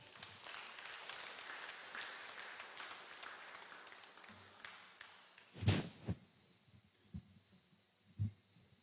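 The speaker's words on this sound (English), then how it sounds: "Give him a round of applause, please." Audience applause at a Democratic Labour Party annual conference rally fills the first few seconds, a crackly wash of clapping that thins out and fades, followed by a few dull, isolated thumps.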